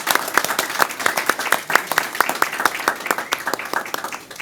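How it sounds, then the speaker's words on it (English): Audience at a school board meeting gives a round of applause, with many clear, individual claps in a moderately sized room, steady and close throughout. "let's give him a round of applause"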